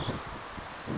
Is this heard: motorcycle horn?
no